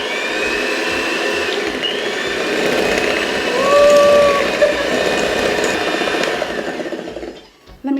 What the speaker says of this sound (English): I'm going to use my hand mixer to just mix this all up together